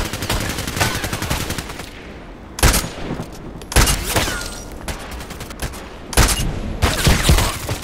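An IAR rifle fires in the shooter game Contract Wars: repeated loud bursts of automatic gunfire, some long and rapid, separated by brief pauses, with game ambience between volleys.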